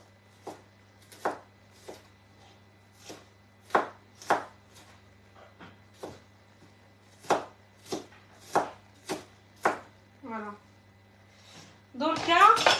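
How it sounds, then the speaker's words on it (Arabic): A knife chops half an onion into small pieces, about a dozen sharp, distinct strikes at an uneven pace, each clear against a quiet background, followed by a brief burst of speech at the end. "ندير نص البصلة نقطعها كشوية شوية"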